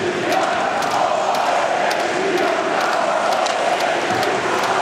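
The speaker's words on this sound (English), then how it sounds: "Crowd getting active near the end of the period," A crowd at an international ice hockey game rises in a steady, loud roar filling the arena, with scattered shouts and sharp knocks over the sustained din.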